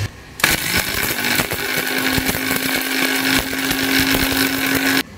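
An electric grinder runs steadily, whirring and rattling as it grinds roasted, soaked seem (flat bean) seeds into spice powder in a home kitchen, loud and continuous for about five seconds with a sharp start and stop.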